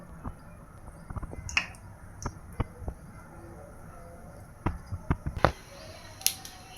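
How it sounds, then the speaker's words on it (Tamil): Sharp, scattered crackles and pops of fennel seeds spitting in hot oil, irregular and fairly close, with no talking. "சோம்பு பொறிஞ்சு சோம்பு பொறிஞ்சிருச்சு"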